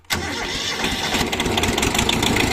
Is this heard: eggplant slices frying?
no